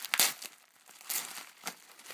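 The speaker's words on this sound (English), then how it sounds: "Just tear open the bubble wrap, that works." Plastic bubble wrap around a smoke detector's packaging is torn open in a few quick crinkling rips and crackles, close and fairly soft.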